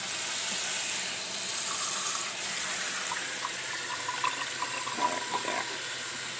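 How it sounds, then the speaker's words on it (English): Water poured into a pot of sofrito while cooking, a steady hissing splash and trickle, with a few small bubbling pops toward the end, close and moderately loud. "Let's pour in a little bit more water."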